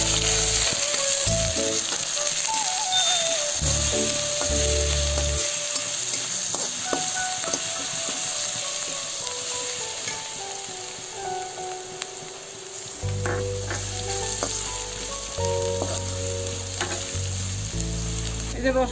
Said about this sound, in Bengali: এই যে রসুনটা ভাজা হয়ে গেছে